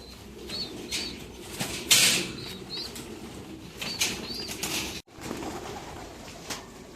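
Pigeons flapping their wings inside a closed transport crate during a long road trip, a series of close, loud wing-flutter bursts with a few soft coos between them.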